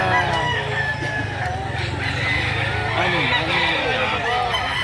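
Roosters crow and hens cluck continuously at a busy chicken market in Lipa City, Batangas, several birds overlapping at close range amid steady crowd chatter and people talking.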